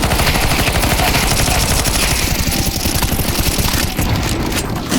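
Sustained rapid gunfire in a zombie escape match of the Counter-Strike 2 video game, with loud, dense automatic bursts rattling continuously from start to finish.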